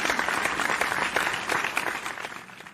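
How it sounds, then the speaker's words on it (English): Students in an English class clap for a classmate after her answer, a short, lively patter of many hands that fades at the end. "Give applause for Angel."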